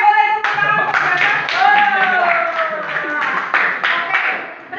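Classroom of junior high students clapping for a classmate in a science lesson, a rhythmic, fairly close burst of hand claps with children's voices singing or chanting over it.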